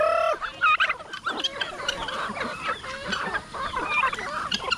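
Turkeys on a backyard poultry farm gobble and cluck repeatedly, close by and loud, in overlapping bursts with no one talking.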